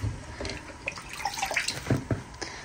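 Malabar spinach is washed by hand in a bowl of water, with soft, close sloshing and splashing and a few drips in uneven bursts, heard alone.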